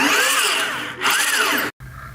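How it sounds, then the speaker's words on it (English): A Ryobi power drill fitted with a hole saw bores through tubing, whining at high pitch with two drawn-out cutting passes, a brief stop, then a short quiet tail after it cuts off. "we're gonna go ahead and finish drilling this backside hole"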